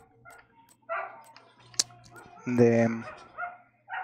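Dogs nearby whine and give short barks and yips in scattered bursts, close and fairly clear, with a person talking around them.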